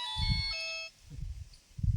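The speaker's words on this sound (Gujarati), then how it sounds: "ફોન આવ્યો" A mobile phone ringtone plays a bright melodic electronic tune, loud and close, during an incoming call in an indoor setting, broken by low thumps and handling noise with no voices.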